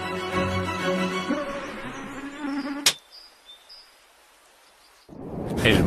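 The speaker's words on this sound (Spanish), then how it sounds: "El mosquito." A mosquito buzzes close and loud with a whining drone, then cuts off at a sharp bang, followed by near silence and a final burst of noise.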